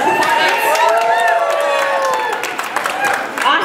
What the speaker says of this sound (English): let's just give another round of applause to Ben for those wonderful songs